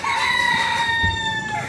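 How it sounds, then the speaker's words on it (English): A rooster crows once, loud and close, in the morning in Lomelo, Congo, its long drawn-out harmonic call sustained over faint background noise. "I woke up to God's alarm clock. Some people call it a rooster."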